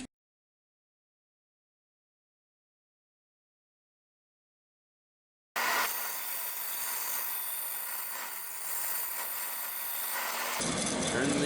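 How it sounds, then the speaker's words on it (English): A bandsaw cuts out a wooden spatula blank, a continuous rough rasping buzz that starts abruptly halfway through after silence and holds steadily to the end. "We're going to buzz this guy out on the bandsaw."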